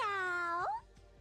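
A Danganronpa 2 game character gives a single drawn-out, cat-like meow, high and clear, that falls away at the end, alone and up close.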